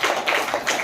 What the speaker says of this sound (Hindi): सारे बच्चे इसके लिए एक बार ताली बजाओ